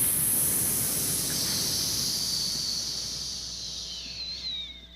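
A voice imitates sizzling with a long, steady breathy hiss that fades slowly over several seconds and ends in a few wavering, whistly tails.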